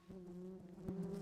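Buzzing bees as a sound effect in a children's read-aloud story, a soft steady drone with a wavering tone that swells briefly near the end.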